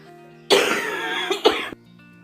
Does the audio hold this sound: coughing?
yes